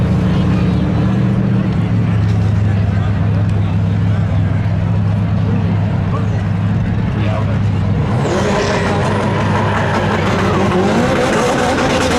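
An Audi A4 and a Chevy Camaro roar side by side at a 2024 Memorial Day thrill show spectator drag race, with loud, continuous engine noise that surges and brightens near the end, and a voice faintly underneath.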